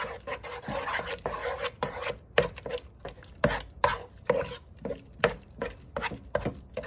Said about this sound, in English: Here's 1 egg. I'm gonna beat it into the dough.